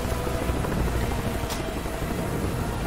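Loud, steady helicopter rotor thrum in the video game Marlow Briggs and the Mask of Death, a dense continuous drone with a brief swish partway through and no voices.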